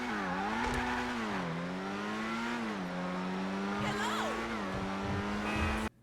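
A Ferrari in the video game GTA 5 Online drives with a steady engine drone whose pitch rises and falls through gear changes, continuous and clear before it cuts off abruptly.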